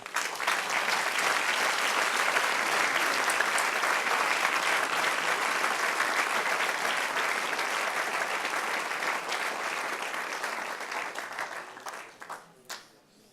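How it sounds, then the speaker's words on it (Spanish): Church congregation applauding during a Spanish-language sermon, a steady dense wash of clapping that holds loud for about eleven seconds before thinning out and fading. "Dale un aplauso, Señor."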